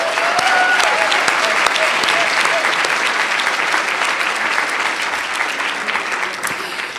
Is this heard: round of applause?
yes